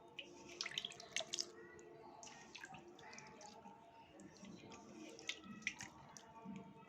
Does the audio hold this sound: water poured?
yes